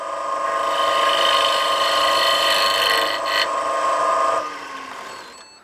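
A woodturning gouge takes a pull cut with one wing across a spinning square bowl, giving a steady, close scraping whir with a brief rough patch before the cut lifts away and a quiet tail remains.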